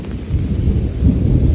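Deep, continuous rumble of thunder during a rainstorm on a rainy park hike near a waterfall overlook, loud and steady with rain hissing underneath, no voices.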